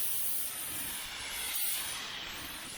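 Paint spray gun spraying coats during the restoration of a 1978 Dodge Aspen R/T, a continuous close hissing spray with a brief dip in the middle, no talking.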